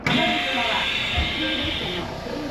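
A Chuo Main Line train pulls out of Tatsuno Station, a steady broadband rush and hiss of the moving carriages, loud and close, with a faint higher whine running through it before easing slightly near the end.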